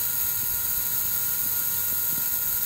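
A drone's motors at high throttle give a steady, loud, high-pitched electric whine with a faint rattly undertone, running continuously without the craft lifting off.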